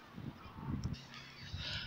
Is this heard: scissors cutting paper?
no